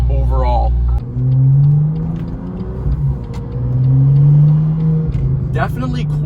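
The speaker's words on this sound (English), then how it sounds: "it's time to start the car and get my first reaction" A BMW M car with a plug-and-play modified exhaust idles with a deep, loud rumble and rises in two smooth revs. A person talks briefly at the start and end.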